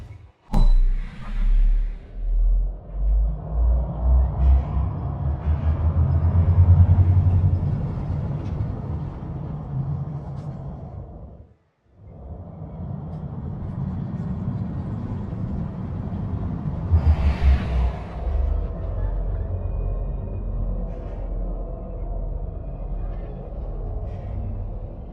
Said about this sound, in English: Let's go and test the roller coaster.